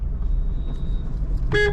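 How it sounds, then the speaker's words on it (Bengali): A car horn gives one short, loud honk near the end while driving on a road, over a low steady engine rumble inside the vehicle. "আমি ভিডিও বানাচ্ছি তবুও কিন্তু আমি হর্ন দিচ্ছি"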